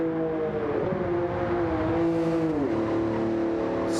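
A Jaguar XJ13 race car in Gran Turismo 7 on the Nürburgring run in reverse, its engine holding a loud, steady high drone up close, the pitch sliding down briefly as it shifts and then settling again.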